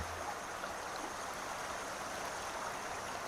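Steady rushing water flows continuously like a stream in Farming Simulator 19, faint and even, with no voices over it.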